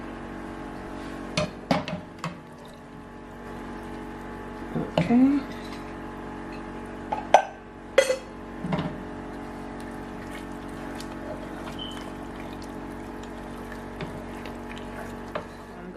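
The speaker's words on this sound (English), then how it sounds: "I'm gonna fill it up with water to about halfway." Tap water runs steadily into a cooking pot in a home kitchen, a continuous close hiss broken by a few sharp clinks and knocks of the pot, while one brief spoken word sounds over it.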